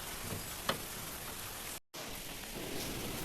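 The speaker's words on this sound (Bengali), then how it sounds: "ছাড়ে এলাম ভীষণ বৃষ্টি পড়ছে" Heavy rain pouring steadily on a rooftop, a dense even hiss of drops on surfaces with a momentary gap partway through.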